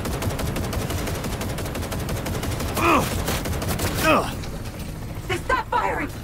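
Rapid bursts of gunfire rattle through a terrorist attack in Cyberpunk 2077: Phantom Liberty, sustained automatic fire with mechanical clatter and several sharp louder shots, with shouting voices over the chaos.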